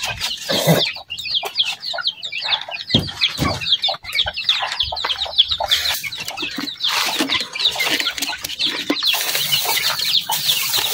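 Chicks being fed cluck and peep continuously, close and busy, with rapid overlapping calls, some flapping and small bumps, and no talking.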